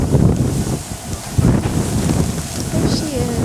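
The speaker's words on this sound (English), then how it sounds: "It's a windy day all of a sudden." Strong wind blows outdoors at an exotic animal rescue beside a bobcat enclosure, a loud continuous buffeting rumble hitting the microphone throughout with gusty swells.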